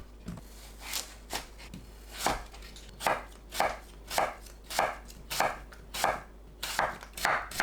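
Knife slicing a seeded Aori green apple into thin slices on a cutting board, a steady run of about a dozen crisp, close chops at an even rhythm with no talking.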